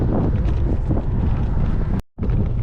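Strong wind roaring across the microphone of a cyclist touring in Iceland, a dense, loud, continuous buffeting that drops out for a moment near the end and then returns.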